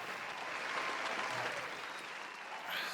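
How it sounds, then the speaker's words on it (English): Studio audience applause on a live podcast, dense steady clapping filling the whole stretch at moderate level, with a faint voice briefly underneath. "Round of applause."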